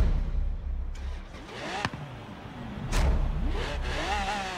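A drift car's engine starts and revs as it pulls away, rising and falling revs sweeping up in pitch, fairly close and steady, with brief sharp knocks in between.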